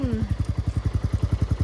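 A Bullet motorcycle's single-cylinder engine thumps in a steady, even beat at close range during a midnight ride, with a short rising tone at the start.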